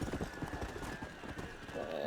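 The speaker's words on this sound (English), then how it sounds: "It's like the fastest horse, and it also has infinite stamina." A horse gallops at full speed in Red Dead Redemption Undead Nightmare, its steady rapid hoofbeats running under game music and a voice talking.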